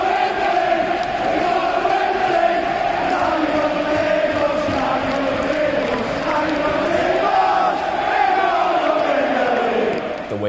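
A packed Liverpool football stadium crowd roars after a goal by Salah, a loud, continuous wall of chanting and shouting voices rising and swelling together, with no gap or quiet moment.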